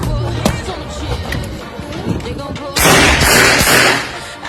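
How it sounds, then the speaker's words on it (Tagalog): Gunfire from someone's pistol shooting training at a firing range: sharp, loud reports, one early bang and then a dense, noisy burst of shots near the end, heard over talk and background noise. "Ang galing na niya bumaril, talagang tumama sa gitna"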